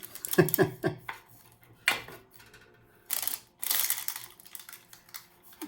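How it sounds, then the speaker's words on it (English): A sharp knife cuts through flapjack in a baking tin, producing a few separate scraping clatters and taps of metal on metal with quiet pauses between them. "So nice sharp knife, straight in the middle."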